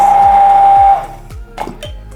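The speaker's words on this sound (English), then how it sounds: "Now you've got a clean immersion blender." An immersion blender whirs at a steady high pitch for about a second and then cuts off, leaving a few soft knocks and clatter behind it.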